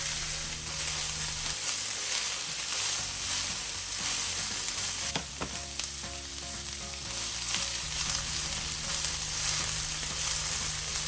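Red peppers and green onions sizzle and fry in a hot pan, a steady loud hiss with occasional stirring scrapes and clinks throughout, and no voices.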